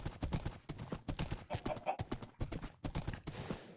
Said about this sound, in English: we'll definitely need a post for our horse, because otherwise he is just going to just walk away